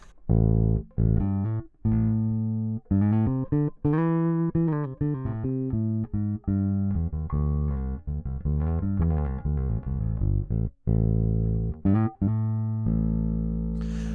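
A freshly restrung bass guitar played alone through an audio interface, slightly distorted, a run of plucked notes and short riffs with brief pauses, full and close.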